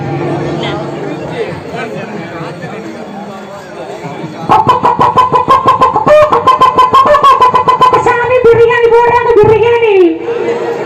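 After some background chatter, a mimicry artist imitates a rooster crowing with long, wavering, drawn-out calls, loud and close, over a noisy crowd.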